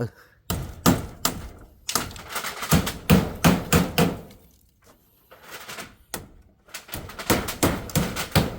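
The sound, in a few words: hammering nails while building a fence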